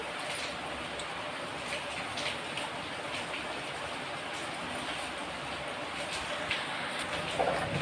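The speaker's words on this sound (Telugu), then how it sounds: "ఇదేంటంటే మరుగుతుంది." Liquid with tomatoes bubbles steadily in a pot on a high flame, a dense, even hiss of boiling that stays constant at close range.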